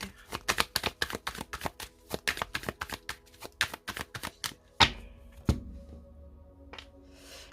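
A deck of tarot cards is cut and riffle-shuffled, giving a quick run of crisp close slaps and flutters, then a couple of heavier thumps as the stack settles, with no talking.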